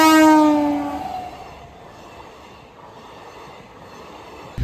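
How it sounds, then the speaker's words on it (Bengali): A train sounds a loud horn blast while approaching a level crossing with a chain gate lowering, then a steady rumble of wagons rolls past at moderate distance, with no voices. "আপাতত ট্রেন আসছে, তাই চেন গেট পড়ে যাচ্ছে"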